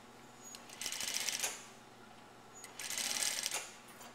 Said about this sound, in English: What I do is I just sew it inch by inch, lining up my raw edges